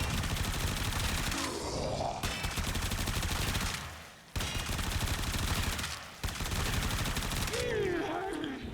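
Video game gunfire, dense rapid bursts of shots in several long volleys separated by short pauses, loud and close, with a player talking between them.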